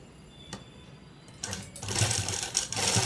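A sewing machine runs close by, stitching a piping cord folded around a neckline, starting after a couple of light clicks and building into a steady rapid whirring stitch run without any speech.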